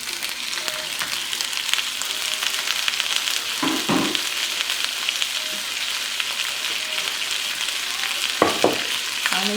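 Shrimp and snow peas sizzle in a pan with a constant bright frying hiss, a couple of louder scraping stirs cutting through partway and near the end.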